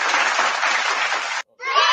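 A dense burst of crowd applause plays as a sound effect, cuts off abruptly to a moment of silence, then resumes with a brief, bright cheering swell.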